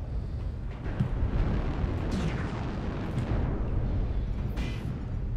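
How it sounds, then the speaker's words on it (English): Artillery or air strike explosions rumble across a battlefield in MechWarrior Online, a continuous heavy roar with several fainter booms rising through it, steady and somewhat distant. "Artillery or air is coming in, and I don't want to be anywhere near it"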